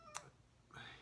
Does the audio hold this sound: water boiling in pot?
no